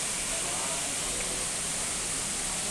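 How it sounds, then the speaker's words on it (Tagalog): Talay Falls' second cascade pours in a steady, dense hiss of rushing water, constant and fairly close with no breaks. "Pangalawang falls siya guys. Ng Talay Falls."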